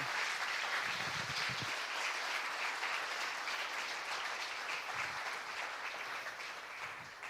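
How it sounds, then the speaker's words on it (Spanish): A church congregation claps together in sustained, even applause that fills the room and fades slightly toward the end. "Dale un aplauso al Señor si estás contento."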